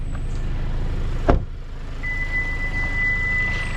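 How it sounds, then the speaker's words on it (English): A 2023 Genesis G70 2.0-liter four-cylinder gives a steady electronic tone lasting nearly two seconds, sounding after a single dull thump over a low, constant background hum. "Gives you a little beep."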